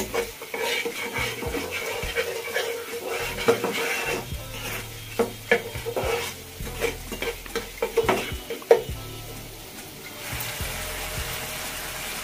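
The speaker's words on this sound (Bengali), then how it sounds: "মশলাগুলোকে খুব ভালোভাবে নেড়েচেড়ে কষিয়ে নিচ্ছি।" Spices being stirred and fried in a pan while preparing mustard hilsa, with repeated scraping and clinking of a spoon against the pan over a low sizzle, loud and close throughout with no talking.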